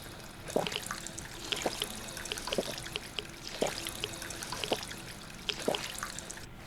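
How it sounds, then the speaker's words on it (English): Water trickling and pouring from a drinking fountain in Fallout 4, a soft steady stream with faint splashes and gulping sounds recurring at intervals. "Yeah, here's a water fountain."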